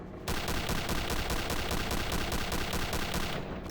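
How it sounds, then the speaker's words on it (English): An FG42 rifle firing in Return to Castle Wolfenstein, a single loud continuous burst of rapid automatic shots lasting a few seconds before it stops abruptly. "my absolutely favorite gun in the game, the FG42. The sound this gun has is just insane, listen to this"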